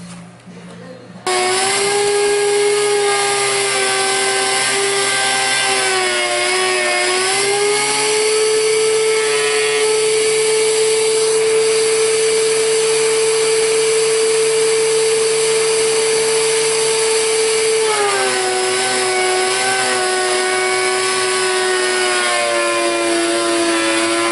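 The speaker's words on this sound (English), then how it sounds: "These are all planed down now, 3/4 of an inch thick, ready to be glued and clamped" A power tool planes wood boards down to a 3/4-inch thickness, giving a loud, continuous motor whine that holds steady for over twenty seconds, with brief pitch dips as the load changes.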